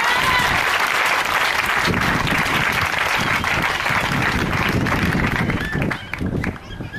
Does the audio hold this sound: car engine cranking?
no